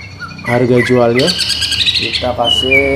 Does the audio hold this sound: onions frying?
no